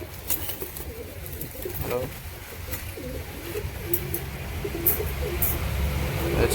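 Pigeons, including Giribaj and Lakka breeds, coo softly in low, throaty warbles against a steady background hum, with a person talking over them.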